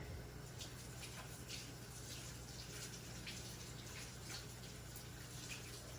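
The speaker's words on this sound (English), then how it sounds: "My sink's right here. I'm just going to reach over and wash them" Hands are washed under a running kitchen sink tap, making a faint, steady stream of water with soft splashing and gentle rubbing throughout.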